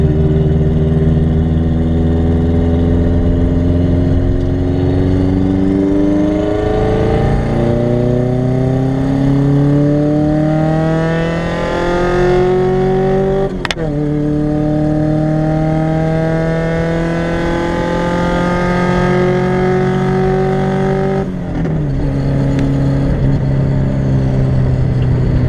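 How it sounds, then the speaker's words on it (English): A car with an external-wastegate turbo is held at full throttle on a freeway, its engine loud and close, droning upward in pitch through long pulls with brief gear-change breaks. "we're gonna take it on the freeway, and I'm just gonna full throttle it, and we're gonna see where the boost stops at."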